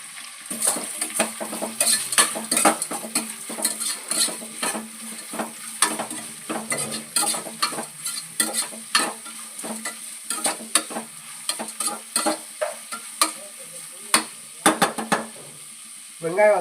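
Onions and green chillies sauté with a pinch of salt in a pan for chicken biryani, a steady close sizzle broken by frequent clinks and scrapes of a spoon stirring, with no talking.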